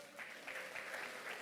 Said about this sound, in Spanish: Palmas para Cristo.